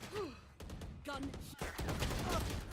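Gunfire in Valorant, heard as a few sharp shots and short bursts mixed with in-game voices and effects.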